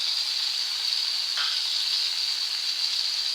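Cumin seeds sizzling in hot oil for a Tamil brinjal curry, a steady close crackling fry with a brief brighter burst as the seeds hit, continuing evenly without talk.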